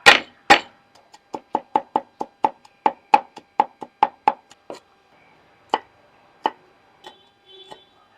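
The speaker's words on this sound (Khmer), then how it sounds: "ឡូវយើងដំខ្ទឹមដើម្បីកញ្ច្រាំយកទៅដាក់ឆា" Garlic being pounded for a stir-fry: loud, close, sharp thuds in a quick, steady run of about fifteen strikes, followed by a few slower, scattered blows, with no talking.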